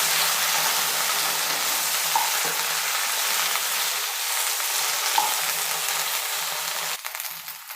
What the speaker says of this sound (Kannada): ಎಣ್ಣೆ ಹಾಕಿ ಎಣ್ಣೆಯಲ್ಲೇ ಚೆನ್ನಾಗಿ ಫ್ರೈ ಮಾಡ್ಕೊಬೇಕು